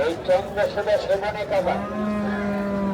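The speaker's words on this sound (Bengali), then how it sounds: "সবগুলি ইন্ডিয়ান জাতের গরু এগুলি" Indian Haryana breed bullocks at the Panchbibi cattle market give a long, deep, drawn-out moo close by, mixed in with someone talking at the start.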